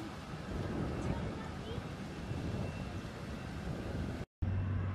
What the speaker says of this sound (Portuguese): Tá ventando gostoso aqui